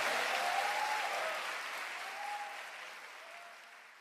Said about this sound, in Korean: 더 큰 박수 주님께 올려드리겠습니다.